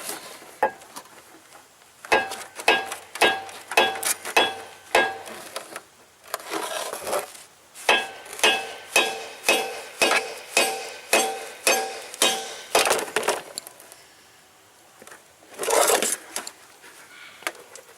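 Hammer blows driving an axle spindle out of a CAT 257 track loader, sharp metallic strikes in rhythmic bursts, some quick runs of steady hits separated by pauses, loud and close with ringing overtones.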